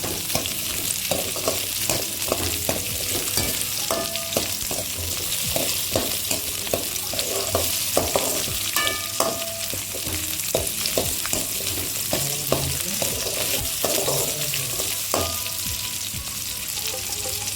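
Onions and other ingredients for radish chutney sautéing in a hot pan, a steady loud sizzle broken by frequent scraping and clinking of a spatula as they are stirred.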